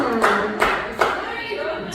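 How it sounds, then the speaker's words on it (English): Short bursts of audience clapping in a comedy club, three quick swells of applause within two seconds, fairly loud and close, fading between bursts. "Strong Libra clap."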